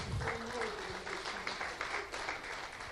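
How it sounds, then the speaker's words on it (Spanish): A church congregation gives a round of applause during a Bible class, a steady mass of clapping heard under a lingering voice and some low hum, moderately loud throughout. "Den un aplauso al Señor."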